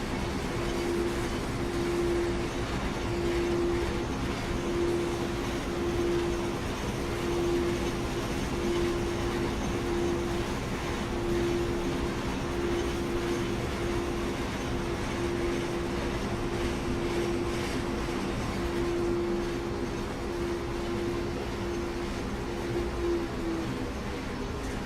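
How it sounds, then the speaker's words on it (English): A DB BR 185 electric locomotive running in Train Sim World on the Ruhr-Sieg Nord line, a steady rumbling drone of rolling stock with a sustained tonal hum throughout, even and continuous, no speech. "Every now and then I'll hear a significant change in the tone of the locomotive"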